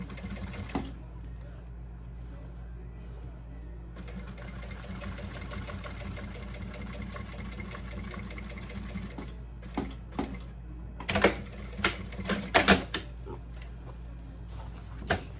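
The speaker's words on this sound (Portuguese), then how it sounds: "Eu comecei a costurar daqui de baixo" A sewing machine runs in steady stitching passes while sewing a double wine bottle holder, its whir continuous with brief pauses and a few louder clicks near the end; a person talks quietly over it.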